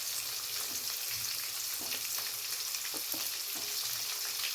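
Chana dal, curry leaves, chopped onion and slit green chillies sizzle steadily in hot oil for a pumpkin palya, a continuous close crackle with occasional soft stirring scrapes.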